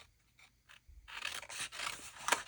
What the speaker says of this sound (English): Let me just cut it down a little bit here.